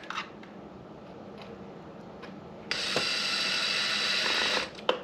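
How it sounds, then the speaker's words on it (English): A power gun drives screws into a Traxxas X-Maxx RC car, a steady whirring burst of a couple of seconds in the middle of the clip, framed by faint clicks and handling noises. Close by, no voices. "Now I'm gonna just crank these things down with the gun"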